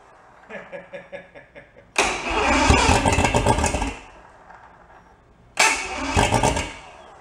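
A 1990 bass boat's two-stroke outboard engine cranks with a rapid chugging starter rhythm, then fires into two loud bursts of running and throttle, the first lasting about two seconds before cutting out, the second shorter.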